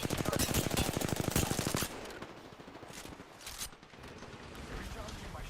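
Rapid automatic gunfire in the Apex Legends battle royale game rattles loudly for under two seconds, then gives way to quieter scattered shots and game effects with a voice speaking.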